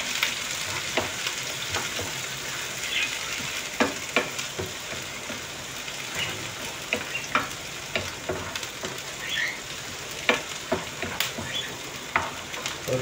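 Sliced onions fry in a pan with a steady, close crackling sizzle, broken by occasional stirring scrapes, and no voices over it.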